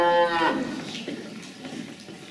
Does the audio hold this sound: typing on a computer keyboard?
no